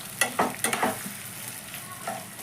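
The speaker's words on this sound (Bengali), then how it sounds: "এবার আমি পেঁয়াজটাকে হাই ফ্লেম দিয়ে ভেজে নেব যতক্ষণ বেরেস্তা না হবে ততক্ষণ ভাজতে থাকবো।" Sliced onions fry over a high flame for chicken biryani, with a steady sizzle broken by a few sharp scraping stirs near the start, close and moderately loud with no talking.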